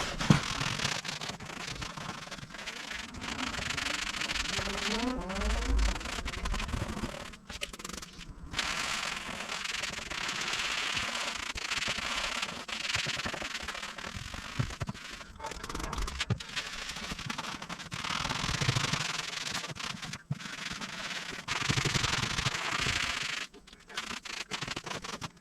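Sponge scrubbing along the body of a Fiat Coupé, a steady wet rubbing and scraping that runs continuously at close range, with brief pauses as the stroke changes.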